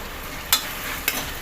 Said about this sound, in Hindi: इसकी थोड़ी भुनाई करेंगे अदरक लहसुन के साथ